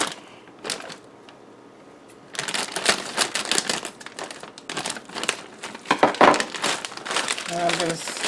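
A 28-ounce plastic bag of frozen potatoes O'Brien crinkles and crackles loudly up close in bursts of handling, with a brief quieter stretch at the start and a voice talking over it.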